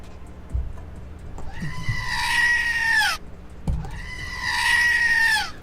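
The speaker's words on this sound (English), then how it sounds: "we need the screaming goat now" A screaming goat sound effect: two loud, drawn-out, human-like goat screams, each rising sharply and then trailing off, separated by a short gap.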